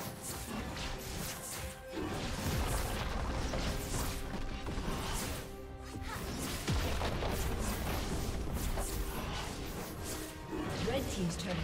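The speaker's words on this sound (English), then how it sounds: "Red team's turret has been destroyed." A turret being destroyed in League of Legends, a loud crashing, rumbling collapse layered with booming impacts and mechanical clatter over constant game-fight noise and a continuous voice.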